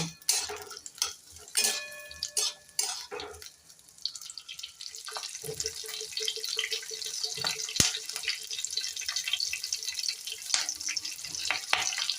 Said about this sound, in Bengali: পেঁয়াজ কুচি। এবার এটাকে আমি একটু ভেজে নেব অল্প।